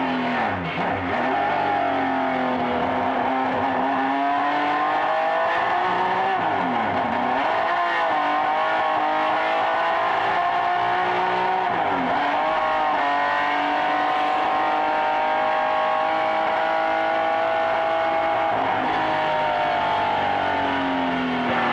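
Vintage race cars, among them a 1970 Datsun 240Z, roar around the track at the 2015 Rolex Reunion, with loud continuous engine drone and revs rising and falling as cars accelerate and pass.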